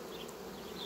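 Continuous soft buzzing of a honeybee colony at the hive, a faint, even drone heard briefly with no speech.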